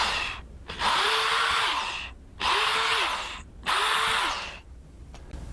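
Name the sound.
drill drilling holes into wall for wall anchors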